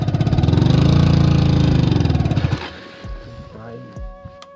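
A motorbike stuck in place with its engine running loudly and steadily before cutting out, followed by scattered knocks, bumps and a voice nearby.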